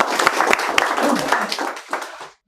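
Audience clapping and applause during a live software repair demo, a dense run of many hands clapping for a couple of seconds, fairly loud, then fading out abruptly.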